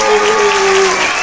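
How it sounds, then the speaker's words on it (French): A church congregation breaks into a brief burst of applause and cheering, a dense, even wash of clapping from many hands that fills the space, with a voice rising faintly above it. "Acclamation!"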